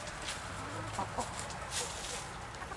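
Chickens on a homestead scratching about, giving a few soft clucks at a distance over faint outdoor background noise.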